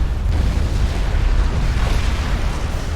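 A heavy, rumbling explosion rolls on for several seconds as enemy artillery is destroyed in the strategy game Supreme Commander 2, loud and dense with no speech over it.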